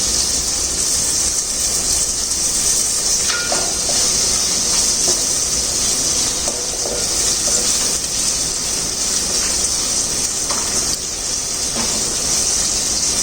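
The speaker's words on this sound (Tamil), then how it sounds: "நல்லா வதங்கட்டும்." Vegetables sautéing with garlic and curry leaves in a pan for a Tamil vegetable mandi, giving a steady loud hiss with a few faint clinks, and no talking.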